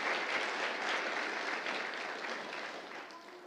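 An audience at a church rally Sunday gives the performing children a round of applause, a brisk, even patter of many hands that gradually fades.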